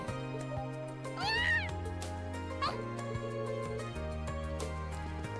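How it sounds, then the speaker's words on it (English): A cat meows twice in the Trails of Cold Steel video game, rising, tonal calls heard clearly over steady background game music. "we'll find the kitty cat"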